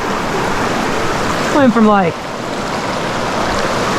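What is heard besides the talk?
small creek flowing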